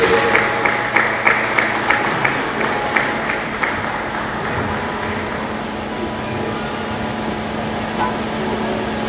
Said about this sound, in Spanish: ¿Por qué no le das un fuerte aplauso mientras te invito a que te pongas de pie?